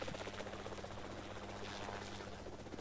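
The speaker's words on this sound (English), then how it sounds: "The helicopter's flying away from." A helicopter in a Formula racing game at a Cannes circuit gives a steady, buzzing rotor drone at moderate distance, holding constant throughout with no other sounds.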